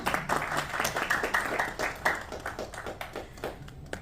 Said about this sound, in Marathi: अरे टाळ्या कमी पडत आहेत कमॉन